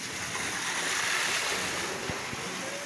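Strong floodwater rushing after a long heavy rain, a steady loud broadband roar and wash filling the whole clip with no gaps, water surging without any voices.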